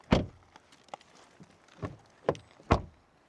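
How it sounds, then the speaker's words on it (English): Doors of a 2026 Volvo XC60 T8 PHEV facelift being shut, four or five solid thuds spaced about half a second apart with light clicks between, near and clear in a quiet setting. "Door closing sounds."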